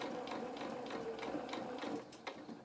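A domestic sewing machine stitches fabric for a doll's jacket around a curve, giving a quiet, even mechanical rattle with regular needle ticks that slow and pause briefly near the end.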